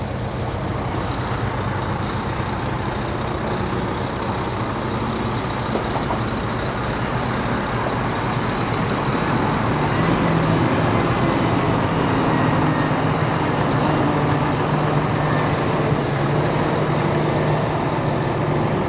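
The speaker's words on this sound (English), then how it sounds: "being suspended on the crane there mid-air, and it's coming down." A crane lowers a fairground ride section off a truck while heavy engines run as a steady, loud diesel drone, with brief hisses of air brakes near the start and end and no voices.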